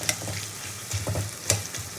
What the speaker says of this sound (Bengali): পেঁয়াজটা খুব ভালো করে ভেজে নিই